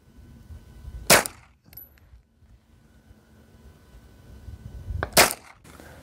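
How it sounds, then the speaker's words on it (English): Two sharp gunshots from a 9mm pistol-caliber carbine fired at a Level IIIA ballistic plate, spaced about four seconds apart, loud and cracking against a quiet outdoor background with no talking. "we're gonna be using a 9mm PC, and we're gonna be firing one full magazine round, about 10 shots"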